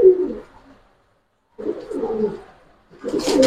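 A female parrot, kept as a bird for sale, gives a few short, throaty calls close by, in three separate bursts with pauses between.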